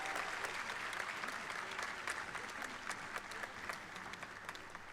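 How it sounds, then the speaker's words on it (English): An audience at the SPA Bhopal eleventh convocation applauds the Best Thesis Award recipients, with sustained, even crowd clapping that carries through the whole clip and fades slightly at the end. "All of you may please applaud once again for the recipients of the Best Thesis Award"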